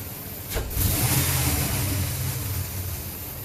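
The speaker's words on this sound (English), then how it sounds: "we're going to do a snap throttle check and look for some anomalies" A 2003 Dodge Ram 1500 pickup with a 4.7 engine and a cylinder misfire is given a sharp snap of the throttle: the engine surges from idle into a loud, close rev that holds briefly, then slowly settles back down.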